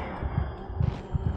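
An in-game heartbeat from the horror game SOMA: low, muffled thumps repeat in a steady double-beat rhythm over a dark ambient hum.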